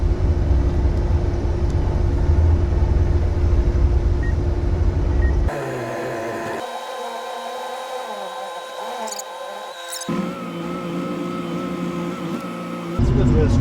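A Bobcat E42 compact excavator engine runs at about 1650 RPM as a steady near drone, which then drops to quieter idle-like stretches broken by hydraulic whines and shifts in pitch.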